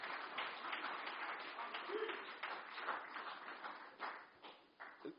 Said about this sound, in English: can you give a round of applause for Robert Marawa?